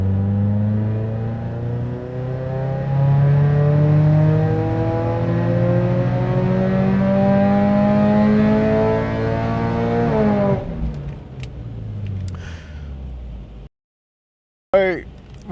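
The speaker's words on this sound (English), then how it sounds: "just let our engine stabilize for a few seconds here at the start of the run." An engine tuned with an Ecumaster ECU holds a loud, steady drone during a test run, then its pitch slowly climbs before it drops away, with brief mechanical clatter near the end.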